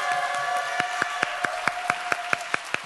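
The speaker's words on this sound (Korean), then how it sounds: "가장 큰 환호성과 박수 한번 연습해 보겠습니다." Children at a summer church service for a kids' department clap together in an even, quick rhythm of crisp, close claps. A soft crowd murmur sits under the clapping, with no clear cheering or speech.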